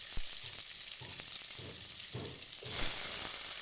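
Curry leaves with green and dry chillies sizzle in hot oil for shavige uppittu (vermicelli upma), a steady close frying hiss with soft stirring scrapes and a louder, brighter sizzle burst near the end.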